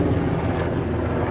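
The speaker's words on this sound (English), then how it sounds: "an army helicopter," Army helicopter flying directly overhead, a loud, close, continuous rotor and engine roar with a dense low throb that stays steady through the brief moment, no speech.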